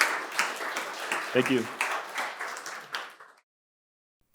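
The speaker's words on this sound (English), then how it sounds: "everyone give them a great round of applause" Audience applause at a conference breakout session, a steady wash of clapping that fades out after about three seconds, with a speaker briefly talking over it.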